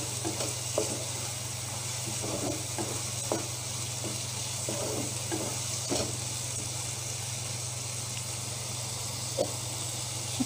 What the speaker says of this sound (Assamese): এইখিনি অলপ ভাজি ল'ম